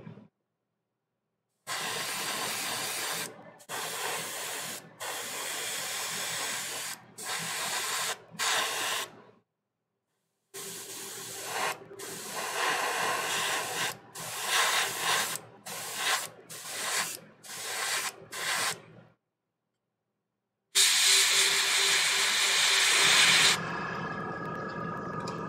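An airbrush sprays paint onto a Warhammer 40K Magnus the Red miniature in repeated bursts of hissing, some short and some longer, separated by clean silences, ending in one longer spray.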